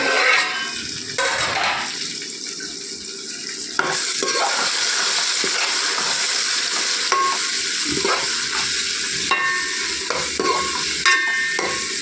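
Tomato masala for semiya chicken biryani frying in a pan as a spoonful of chili powder is stirred in, a loud continuous sizzle with wet scraping strokes of a spoon, close up, no talk.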